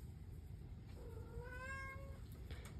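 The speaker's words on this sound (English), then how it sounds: "And excuse my cat." A house cat gives a single drawn-out meow with a rising then falling pitch, faint and a little distant in a quiet indoor room with low background hum.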